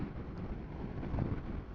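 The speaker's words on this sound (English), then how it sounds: "It's quite windy." Wind roar buffeting a helmet microphone on a BMW R1300GS motorcycle cruising at 70 mph on a motorway, a continuous dense rushing noise with no voices.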